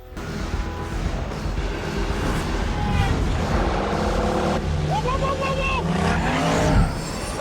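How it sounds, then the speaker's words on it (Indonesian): A hijacked smart car speeds and skids in the sci-fi film Upgrade, its engine roaring steadily with tire squeals rising near the end, dense and loud with other traffic and action sounds around it. "Stem kemudian membajak kendali mobil pintar yang ada di depannya"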